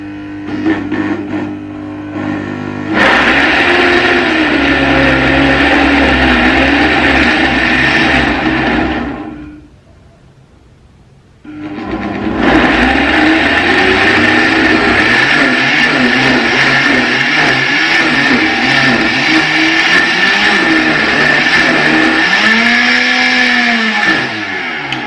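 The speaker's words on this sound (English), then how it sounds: "I'm going to start from low speed." A kitchen blender under test runs from low speed on fluctuating mains power, a loud, steady motor whine that cuts out briefly midway, then restarts and keeps running with wavering pitch.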